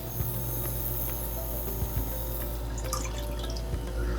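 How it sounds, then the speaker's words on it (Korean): Water pours and drips into a cooking pot on the stove while making brown rice cream risotto, a steady close trickle with scattered splashes and drips and no voices. "물을 1컵 반 정도 넣을게요."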